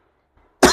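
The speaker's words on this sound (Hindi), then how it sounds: "खांसी हो गया।" A single sharp cough bursts in at the end after near silence, loud and close.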